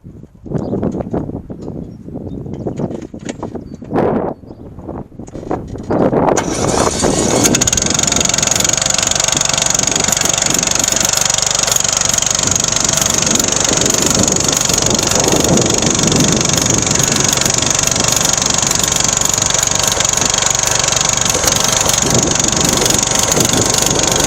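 A lawn mower on its first mow of the season: a few seconds of quiet handling and clunks, then the engine roars to life and runs loud and steady nearby, with some wind buffeting the microphone.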